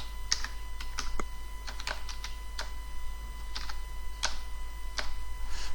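A password is typed on a computer keyboard in quick, uneven bursts of crisp key clicks, fairly faint over a low background hum.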